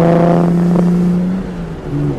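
A 1962 Jaguar E-Type Low Drag Coupe pulls away under moderate throttle, its engine note close and steady with harmonics that climb as it gathers speed and briefly ease off near the end.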